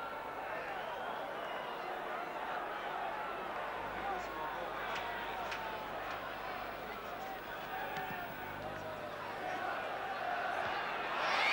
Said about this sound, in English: the crowd are making a lot of noise and really getting into this game and enjoying it